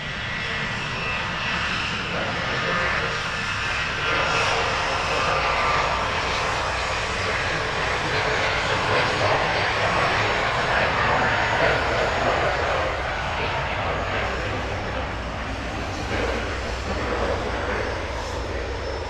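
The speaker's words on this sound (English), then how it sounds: "There were very few planes moving around, but I did watch one take off." An airplane takes off from an airport runway, its engines roaring loudly and steadily for the whole stretch, heard from a distance with the broad rumble holding level rather than fading away.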